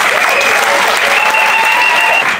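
An audience applauds at a women's rights day event in Côte d'Ivoire, giving a dense, steady round of clapping at fairly loud volume that fades slightly at the very end.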